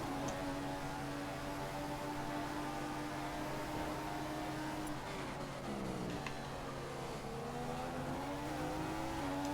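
Formula 1 race car with a Mercedes engine in the F1 2015 video game, Russia circuit, a sustained loud engine whine whose pitch holds steady, then dips and climbs again through gear changes for nearly ten seconds.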